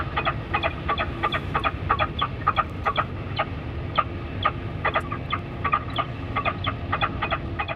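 A recorded falcon distress call plays through a speaker at an airport to scatter birds, a rapid series of harsh, repeated shrieks in irregular bursts over a low background rumble.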